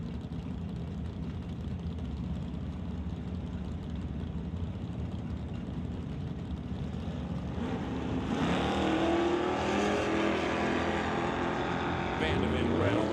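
A drag race at an NHRA Summit ET Series event, with the TNT Auto car launching against a Firebird, their engines roaring loudly and building as they pull away, under an announcer talking over the track public-address system.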